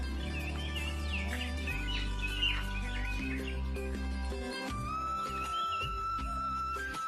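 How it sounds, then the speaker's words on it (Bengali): Small birds chirp and twitter in a village at morning, quick bright calls scattered over a steady low hum and background sounds. "সকালবেলা এরকম পাখির কিচির মিচির ডাক"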